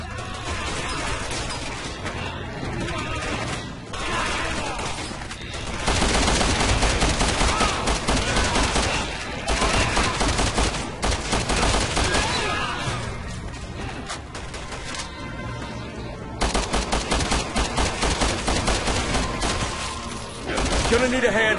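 Dense, continuous gunfire and crashing impacts from the action game Resident Evil 6, loud and sustained throughout with brief lulls, mixed with game sounds and occasional voices.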